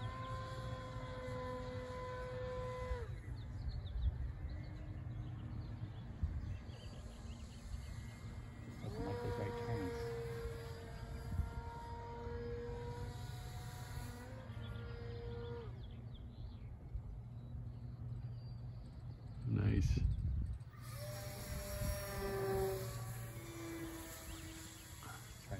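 The electric motor of a foam board Sopwith Pup RC model airplane whines in flight, its pitch sliding up and down as the plane loops and passes. A louder, closer sweep comes near the end, heard outdoors with no talk.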